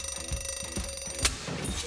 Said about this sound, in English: The mighty Thunder Boy turns off his alarm like a real superhero